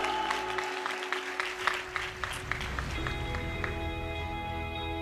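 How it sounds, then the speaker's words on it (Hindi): A church congregation claps for Jesus during a Hindi-language service, moderately loud scattered clapping with sharp individual claps over a steady hum, fading toward the end. "ताली बजाओ प्रभु यीशु के लिए सारे"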